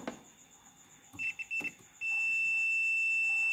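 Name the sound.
multimeter continuity buzzer beeping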